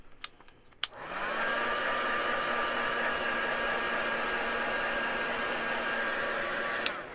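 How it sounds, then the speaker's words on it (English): A heat gun starts after a few clicks and blows a steady, loud whirring hiss while drying mixed media paint, then cuts off near the end. "maybe give it a very very quick zap with a heat gun"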